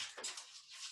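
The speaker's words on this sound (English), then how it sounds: "That is my dog scratching on the door." A dog scratching on a door makes a few quick, soft scraping strokes, close by but quiet, in an otherwise still room.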